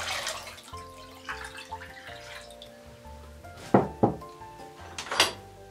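Water being mixed with grape syrup while making walnut Turkish lokum, heard as soft liquid sloshing and dripping with a few sharp clinks against the container near the end, close and fairly quiet, with no talking.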